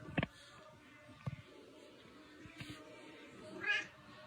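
A pet cat named Jangles meows once loudly up close, then again briefly a second later, with a faint higher meow near the end amid quiet room noise.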